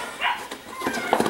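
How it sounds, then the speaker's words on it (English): A husky puppy yips and whimpers nearby, a few short high-pitched cries and whines in quick succession, clear but not loud. "Apologize for the background noise. The puppy's getting slightly upset."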